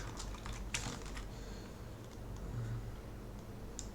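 Fast, steady clicking of keys on a computer keyboard while code is typed, heard close and fairly quiet with no talking.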